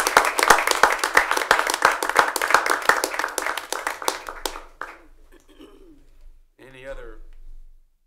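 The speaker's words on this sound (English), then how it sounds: "we'll stand up so we can give you a round of applause" A round of applause rises in a council chamber as a guest stands, many hands clapping briskly for about five seconds before fading out, then a voice speaks briefly in the quiet room.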